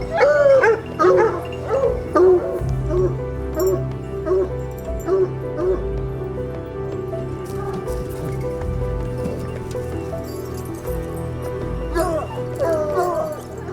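Hunting dogs in a forest bark, yip and whimper repeatedly at close range, with several animals overlapping in a steady, restless chorus.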